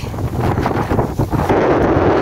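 Strong wind buffets the microphone in loud, gusty bursts high on a hiking trail in Tai Tam Country Park, Hong Kong, with a constant roar close up throughout.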